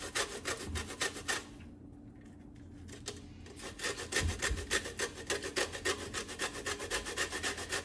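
A single lemon grated for zest: close, rhythmic rasping strokes scrape steadily across the grater, pausing briefly in the middle before resuming at a quick even pace, with no talking.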